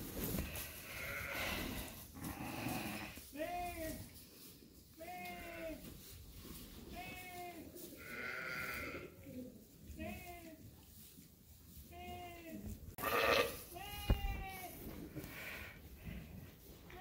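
Repeated bleats from a ewe with a bad udder on a sheep farm, several wavering calls spaced across the stretch, close and fairly loud over a busy farmyard background.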